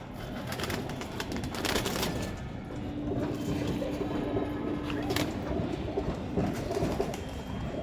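Jira pigeons coo softly in a loft under steady background noise, the calls faint and close together, with no voices.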